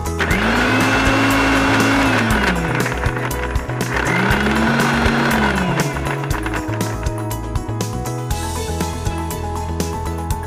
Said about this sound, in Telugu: ఇది మెత్తగా రుబ్బుకోవడం అయిపోయిందండి.